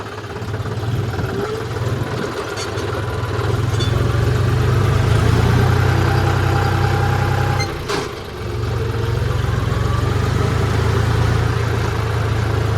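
A tractor engine idles loudly and close by with a deep, steady throbbing drone. It dips briefly around the middle, then settles back into the same low rumble, with no talking.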